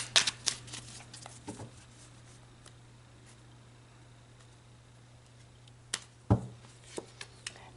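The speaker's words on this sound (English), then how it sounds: "So let's pull some more cards." Tarot cards being shuffled, soft scattered riffles and taps at the start and end separated by near silence, quiet and close with a faint steady hum underneath.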